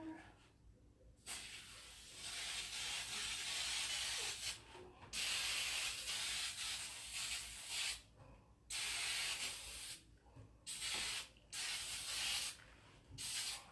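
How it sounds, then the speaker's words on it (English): Several long bursts of hissing 3M aerosol adhesive sprayed onto furniture, close and loud, separated by short pauses, with faint handling noise between. "I'm going to go ahead and spray it"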